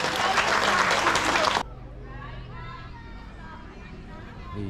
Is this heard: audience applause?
yes